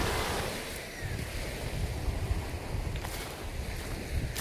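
Sea waves washing in at a scenic seaside picnic and fishing spot, a steady broadband surf roar with wind buffeting the microphone throughout, no voices.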